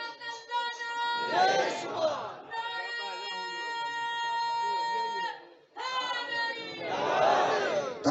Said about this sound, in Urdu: نعرے خدا را تھوڑے کریں